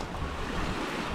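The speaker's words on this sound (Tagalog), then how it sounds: "So, malakas ang alon guys." Strong ocean waves surge in a continuous loud roar, mixed with gusting wind rumbling across the microphone, near and unbroken with no voices.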